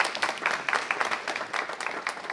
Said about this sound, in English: everyone, please give her a round of applause.